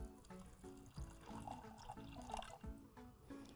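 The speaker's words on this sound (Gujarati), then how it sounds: "દાણા ડૂબે ને એટલું પાણી એડ કરવાનું છે" Water is poured over a large cup of pigeon peas in a pressure cooker in a home kitchen. It makes a soft, faint trickling and splashing with small drips, heard alone without talk.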